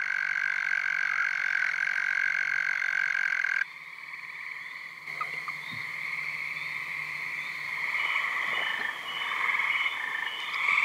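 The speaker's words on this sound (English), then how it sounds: "Release calls are the sound of one male chirping at another" Male frog release calls, one male chirping at another, with repeated rapid trilling chirps in a continuous chorus close by, and no voices present.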